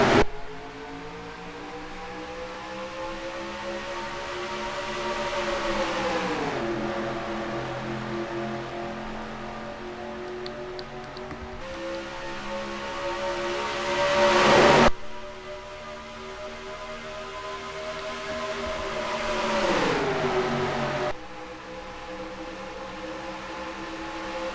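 Stock car engines roaring through a race at Texas in a video game, a steady loud drone whose pitch rises and falls in long sweeps as cars accelerate and pass, with a brief surge near the middle.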